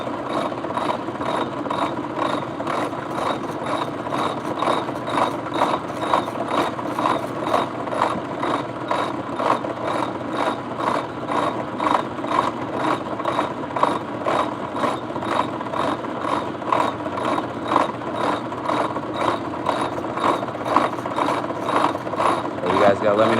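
Drill and drill press shape a sphere in a workshop, a steady mechanical whir with a rapid, regular ratcheting clatter running continuously at moderate loudness.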